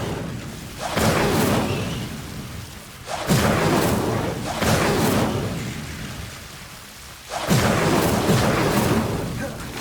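Incendio fire spell cast repeatedly in Hogwarts Legacy, several loud, broad fiery whooshing bursts erupting one after another with roaring, crackling tails between them.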